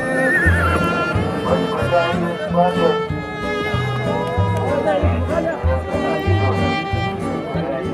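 Donkeys at a busy Moroccan market bray and whinny repeatedly, loud and close, over a steady din of crowd voices and chatter.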